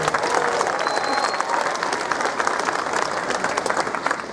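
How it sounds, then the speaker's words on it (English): Theme park pass holders at a Busch Gardens preview day applaud as a crowd, a dense, steady wash of clapping with faint cheering mixed in for several seconds. "Give yourselves a big round of applause for being so great."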